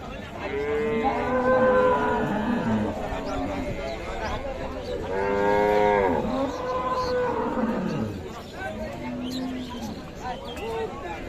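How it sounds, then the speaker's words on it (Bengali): At a cattle market, dairy cows moo in several long, drawn-out calls, loud and fairly near, over a background of crowd noise and voices. "আমরা ভালো করে গাভীর ওলান দেখছি এবং দুধের গাভী দেখছি"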